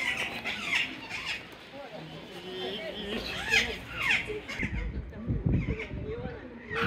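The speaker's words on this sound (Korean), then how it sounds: "금강잉꼬." Loud, harsh squawks from a blue macaw in a zoo enclosure cut through a noisy crowd, with children and adults chattering throughout.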